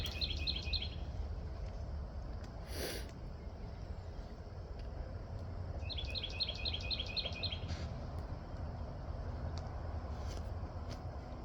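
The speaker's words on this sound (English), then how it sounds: "Hello, pretty bird." Outdoors, a small bird gives two short bursts of rapid, high chirps, the first at the start and a longer run midway, over steady low background rumble.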